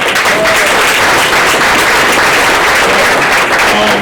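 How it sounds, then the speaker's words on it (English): Loud, dense applause from a crowd at a public safety symposium, honoring law enforcement veterans, sustained and even throughout without any break. "We should give you guys a round of applause for you."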